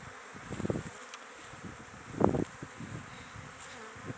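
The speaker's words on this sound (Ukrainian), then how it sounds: "Навіть може бути, що вийшла молода пчола, бо дуже масовий обльот" Honeybees in a massed orientation flight at a hive carrying pollen, a continuous buzzing hum with individual bees droning past close to the microphone, moderately faint, with no talking.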